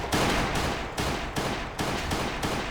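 Gunfire in a boss fight in the mobile game Last Day on Earth: Survival, loud repeated bursts in a steady rhythm about every half second, harsh and overdriven from a device sound glitch.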